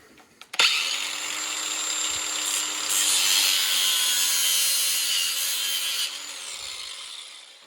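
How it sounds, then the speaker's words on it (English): An angle grinder's cutting wheel whines steadily through material, a continuous high-pitched abrasive screech lasting several seconds before spinning down. "Then I'm gonna take my cutting wheel, my grinder."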